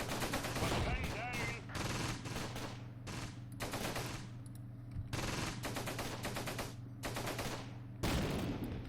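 Rapid bursts of machine-gun fire and scattered gunshots from the World War II strategy game Close Combat, in a battle against Panzer Grenadiers near Caen, crackling loudly in repeated volleys over a steady low rumble.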